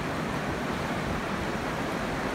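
A river flowing beside a campsite in Barot Valley makes a loud, close, continuous rushing wash with no pauses.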